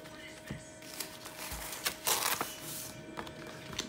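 A cutting machine slices HTVRONT rhinestone flock vinyl, giving a steady mechanical whir broken by clicks, short scraping bursts and one louder rasping pass midway, all close and moderately loud.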